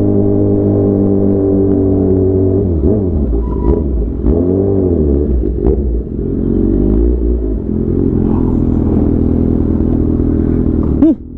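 A motorcycle engine rumbles steadily during a night ride, close and loud, with a few throttle swells and dips before a brief rev at the end.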